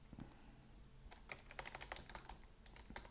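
Rapid, uneven typing on a computer keyboard while writing Go code for a simple tic-tac-toe game, a steady patter of close key clicks with no talking.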